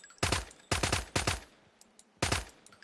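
Four short bursts of automatic gunfire in Call of Duty Mobile, each a quick rattle of several shots, sharp and close, separated by quieter pauses with faint background game noise.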